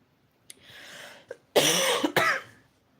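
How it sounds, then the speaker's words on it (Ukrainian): A soft breathy sound, then two harsh, loud coughs in quick succession, close to the listener. "Пробачте, цей кашель, він мене замучив."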